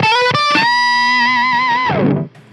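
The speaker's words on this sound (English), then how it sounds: "And then you can stack it with the overdrive if you want to, and that sounds like this." Pigtronix Disnortion pedal with octave fuzz stacked on overdrive, an electric guitar playing a couple of short notes and then a long loud held note that sustains with a slight bend before cutting off.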